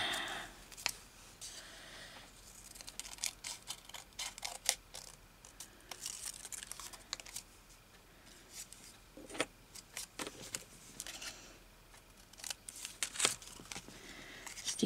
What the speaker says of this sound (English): We'll cut that. Why haven't I got... Oh, here's a pair of medium-sized scissors.